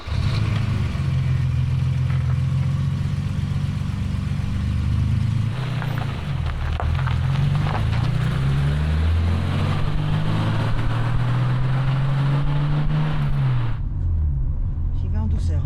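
A BMW M635CSi engine runs steadily from inside the cabin while driving, its low drone rising and falling through gear changes and revs for the whole stretch, with people talking over it.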